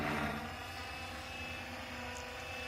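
A helicopter in a stable hover, a continuous loud rotor and engine drone with steady tonal whine, close and unbroken.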